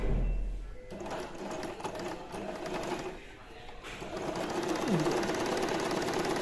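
An Usha Janome electric sewing machine runs slowly while stitching cloth, giving a steady close whirr and clatter that continues through the clip with a brief dip partway.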